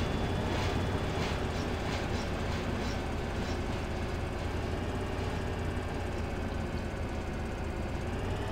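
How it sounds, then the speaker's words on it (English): A train in Farming Simulator 2013, on the Two Rivers map, rolls past with a continuous broadband rumble and rattle of wagons that holds steady throughout, with faint rhythmic clacks early on. "Train goes by again."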